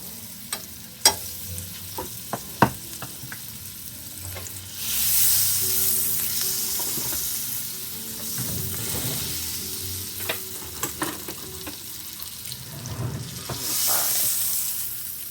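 Butter sizzles and fries in a hot pan while making French onion chicken, a steady broadband hiss rising midway with occasional stirring clatter and utensil taps, close and fairly loud.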